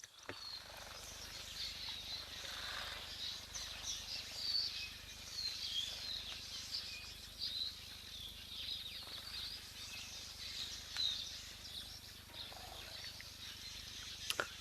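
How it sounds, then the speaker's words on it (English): Flocks of queleas chatter in a dense, distant twittering chorus at a waterhole, with scattered wingbeats and other calls mixed into steady outdoor ambience. "It sounds like a few more birds have returned."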